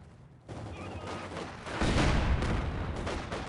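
Cannon and gunfire from the World War II strategy game Company of Heroes 2, a rising barrage of booming shots and crackling fire that swells partway through and stays loud, with no voices over it.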